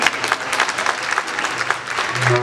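Audience applause at a community food fair, brisk steady clapping from a crowd throughout, fairly close, with a faint tone creeping in near the end.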